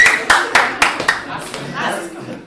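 Audience applause at an awards show, a burst of a few sharp claps close up followed by softer scattered clapping, with voices talking and laughing over it.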